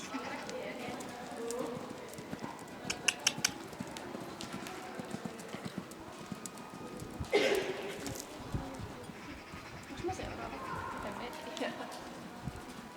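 Horse hooves clip-clop steadily during a riding lesson at a 70 cm jumping session, soft and somewhat distant, with a voice occasionally speaking and a brief louder thump midway.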